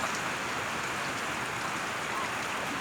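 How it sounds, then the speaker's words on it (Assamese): Rain falls steadily on a village during monsoon flooding, with cattle tied nearby. A close, even patter and hiss continues without pause, and no voices are heard. "এতিয়া বৰষুণ মাৰি আছে"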